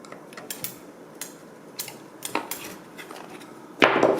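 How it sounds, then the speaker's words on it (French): Screwdriver tightening parts of an arcade joystick, a series of faint metallic clicks and scrapes at irregular intervals, close, finishing with a louder rattling handling noise. "Hop, avec le tournevis comme tout à l'heure."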